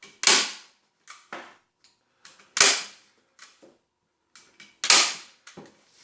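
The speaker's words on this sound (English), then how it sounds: "I'm gonna buy another staple gun. This thing's a pile." A hand staple gun driving staples through fabric stretched over an acoustic bass-trap panel, three loud sharp snaps at regular intervals, each followed by quieter clicks and handling rustle.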